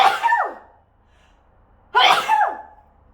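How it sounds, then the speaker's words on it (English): A woman gives two loud, close sneezes about two seconds apart, each a sharp burst with a sharp intake before it and quiet in between. "Excuse me, I'm gonna sneeze."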